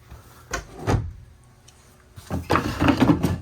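A large storage drawer in a 2025 Forest River Alpha Wolf 26DBH travel trailer slides open, two short bursts of close sliding and thudding separated by a quiet pause.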